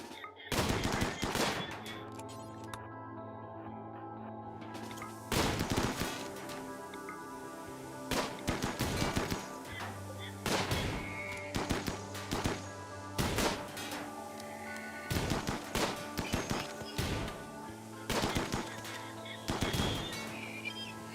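Gunfire in RimWorld crackles in repeated bursts of sharp, loud shots spread across the whole stretch, clustered volleys separated by brief lulls, with a steady tonal game hum underneath.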